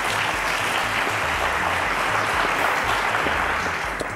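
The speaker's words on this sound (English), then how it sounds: "A round of applause" Sustained applause fills a quiz show studio as the crowd welcomes a contestant, a thick, even roar of clapping hands running unbroken for several seconds with no voices over it.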